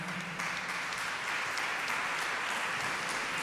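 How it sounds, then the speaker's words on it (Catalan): Concert audience applauding a pianist, a dense, even sheet of clapping from many hands that swells slightly after the first moment and holds steady, heard from a distance. "Un fort aplaudiment per Vicente Marín al piano"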